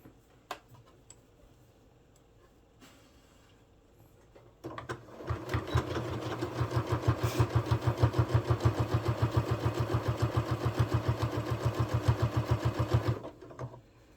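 A sewing machine sews a stay stitch on a ruffled boho top. After a quiet start it whirs up and runs close for about eight seconds with a fast, regular rhythmic chatter, then slows and stops.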